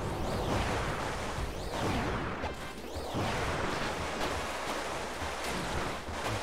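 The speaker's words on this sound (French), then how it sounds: "Ah bah j'en fais des vagues aussi," Wave attack sound effects from the video game Kirby Star Allies, a continuous loud rushing, surf-like whoosh of noise with repeated swelling sweeps, filling the whole stretch without pause.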